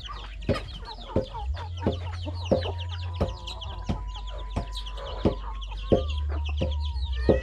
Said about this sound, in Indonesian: Tuh ayamnya.